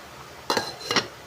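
Two quick metallic clinks about half a second apart, a lid set down on a pot of sinigang na tilapia, close and fairly crisp against a quiet background.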